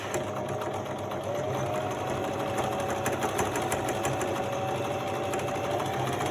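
A sewing machine stitches fabric in a steady, continuous run of rapid needle clatter and motor whir, close and even throughout with no talking.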